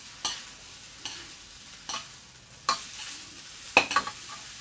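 Rhythmic scraping and clanking of a spatula in a wok stir-frying noodles for Thai rad na with marinated pork over a low sizzle, strokes coming roughly once a second, with a quick double clatter near the end.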